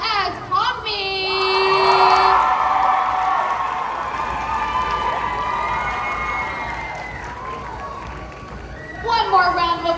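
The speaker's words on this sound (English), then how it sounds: "One more round of applause for our lovely Pogme with the beautiful voice" Award-ceremony crowd at an anime convention in Raleigh, North Carolina, cheering and applauding a young cosplayer, a loud swell of claps and shouts that fades gradually, with voices calling out at the start and end.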